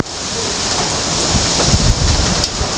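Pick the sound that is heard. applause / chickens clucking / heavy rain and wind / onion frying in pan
heavy rain and wind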